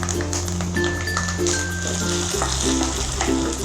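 Coconut pieces, cashews and raisins frying as a tempering for Kerala-style parippu payasam, giving a continuous close sizzle and bubbling under steady background music.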